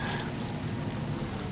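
Heavy timefall rain in Death Stranding 2, a dense, steady wash of downpour and patter that stays loud and constant throughout.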